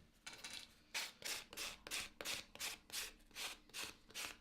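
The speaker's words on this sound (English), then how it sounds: "this is just a sanding block. It's just like having a bit of sandpaper wrapped around a lump of wood" Sanding block wrapped in sandpaper rubbing over a photo transferred onto wood, a quiet, close series of about nine rhythmic scratchy strokes, back and forth, with no talking.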